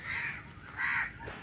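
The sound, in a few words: crows cawing outdoors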